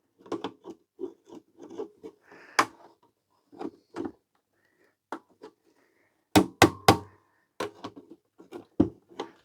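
Sharp taps of a tool against a part being worked back onto the shaft of a 1940s Ferris car radio, coming in scattered single knocks and a quick cluster of three or four loud, close strikes.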